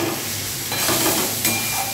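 Fried potato pieces are stirred in hot oil in a pan, a close, continuous sizzle with brief scraping swells as they are turned.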